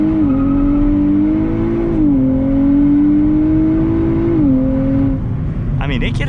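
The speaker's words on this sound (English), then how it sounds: "So, first gear, let's kind of do a little bit of a launch." A 2023 Nissan Z in first gear revs hard through a launch, the engine pitch climbing and dropping across gear-like steps, loud and close with steady road roar, then a brief higher whine near the end.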